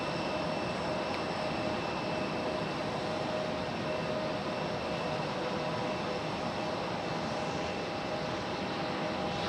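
An American Airlines jet at Raleigh-Durham airport gives a steady, even engine roar with constant whining tones, continuous and moderately distant throughout.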